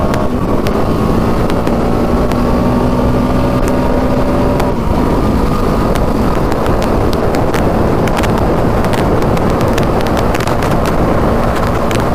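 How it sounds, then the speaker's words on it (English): Strong gusting wind roars into the microphone nonstop while riding a Yamaha Raptor 700 quad, a heavy broadband rumble with brief clicks and knocks, and no voices. "It's way too windy."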